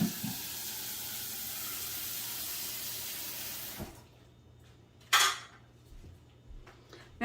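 A utensil clinks against a dish while strawberry and peach pie filling is stirred, following a stretch of running tap water that cuts off, with a few scattered clatters near the end.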